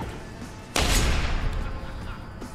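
Two shotgun blasts in Deus Ex: Human Revolution Director's Cut land close together as one loud, sudden broadband burst with a booming low end, then a long rumbling tail that fades slowly.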